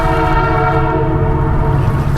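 A train passes nearby, a loud sustained horn blaring over a heavy low rumble for the whole moment.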